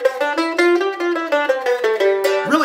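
A mandolin plays a G mixolydian scale, single plucked notes stepping steadily upward with a flattened seventh, bright and close with no talk.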